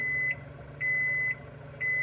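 An under-cabinet microwave oven sounds three clear electronic beeps, each about half a second long and evenly spaced, clean and close over a faint room hum.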